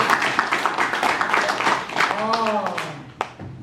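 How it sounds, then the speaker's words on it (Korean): A live audience applauds during a Buddhist monk's lecture, a dense burst of clapping for about two seconds that fades as a voice takes over. "일단 박수 한번 칩시다"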